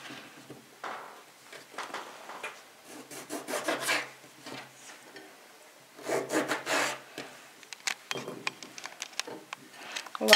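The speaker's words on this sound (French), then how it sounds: "On va râper le gingembre comme ça." Fresh ginger is rubbed against a grater in short, raspy back-and-forth strokes, coming in uneven bursts with pauses between them, close by and fairly quiet.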